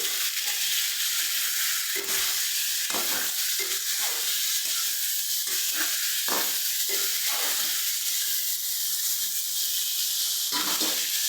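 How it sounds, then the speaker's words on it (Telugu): Brinjal, onion and tomato frying in a pan on a low flame, giving a continuous dense hiss and sizzle with occasional faint stirring taps underneath, steady throughout and without speech. "వీటిని అన్నిటిని ఇప్పుడు మంచిగా ఫ్రై చేసుకుందాం సిమ్లో పెట్టుకొని ఫ్రై చేసుకోవాలి"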